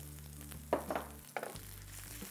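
Handful of grated coconut stirred into hot oil with cumin seeds and black pepper, the stove switched off: a soft steady sizzle with a couple of brief scraping stir strokes, close and fairly quiet.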